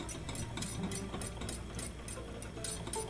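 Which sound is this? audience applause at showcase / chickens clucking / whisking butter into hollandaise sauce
whisking butter into hollandaise sauce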